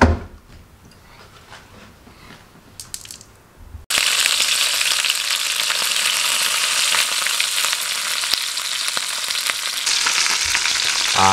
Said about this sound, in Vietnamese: trong lúc chờ gà rán cho nó chín